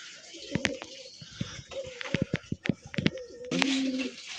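Madrasi highflyer pigeons coo inside a pigeon loft, with repeated soft throaty calls and short bursts overlapping close by at moderate volume.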